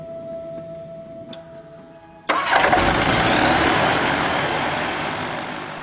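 Rotax 912 aircraft engine fired up after an oil change: a quiet ticking hum, then a sudden loud catch at about two seconds into a steady, close, full-bodied running roar that slowly eases.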